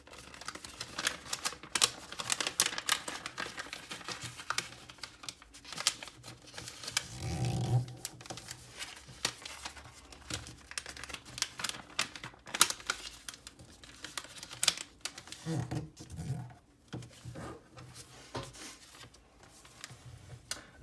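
Sheets of paper are creased and reverse-folded for an origami Diamond Canard, giving a run of crisp crackles and light taps that come and go at close range, with a few soft thuds along the way.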